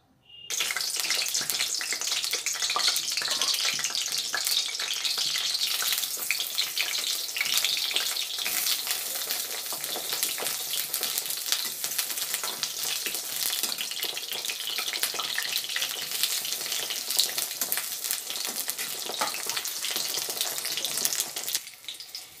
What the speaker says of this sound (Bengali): সর্ষের তেলটা ভালো করে গরম হয়ে গেলে বেগুনগুলোকে ভেজে নেব